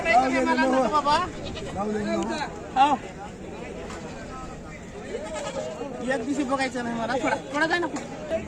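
Goats bleat repeatedly over a busy crowd, wavering calls rising and falling amid steady market chatter and talk nearby.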